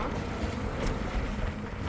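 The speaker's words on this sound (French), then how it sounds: "Le vent s'est levé soudainement, la mer aussi." Strong wind from a sudden squall roars and buffets the microphone over the rush of a sailboat on rough sea, continuous and loud.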